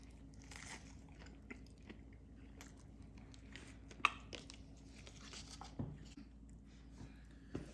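Biting and chewing an unheated EggLife egg white wrap folded like a stuffed taco, with soft crunches and a sharp bite near the middle, then quiet steady chewing, close and fairly faint.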